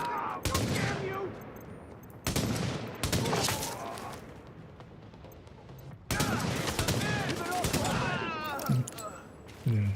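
Gunfire in the video game The Division, with loud rapid volleys and single shots crackling up close in repeated bursts, partly under a voice speaking.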